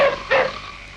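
Dogs bark twice in an old black-and-white Bollywood film, two short mid-distance yaps about a third of a second apart over a faint background.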